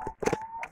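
A few short clucks from laying hens close by in a henhouse, a brief burst of bird calls at moderate volume.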